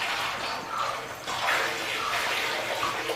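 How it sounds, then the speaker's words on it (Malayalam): A herbal kashayam decoction is poured into oil for Ayurvedic hair oil, giving a continuous close splashing, gurgling stream of liquid without pause. "അടുത്ത കഷായം ഒഴിക്കാൻ പോകുന്നത്."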